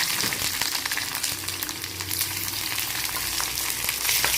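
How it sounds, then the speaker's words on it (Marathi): Peanuts and onions frying in hot oil in a pan, a steady dense crackle and sizzle that holds evenly throughout, close and continuous with no voices. "छान ब्राऊन कलर मध्ये तळून घ्यायचे शेंगदाणे"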